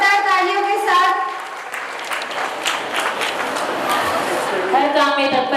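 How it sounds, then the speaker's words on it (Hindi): Applause fills a school award and investiture ceremony at a girls' gurukul: a crowd claps steadily at moderate volume while a voice speaks over it at the start and end. "श्री तेजवीर सम्मानित करें जोरदार तालियों के साथ"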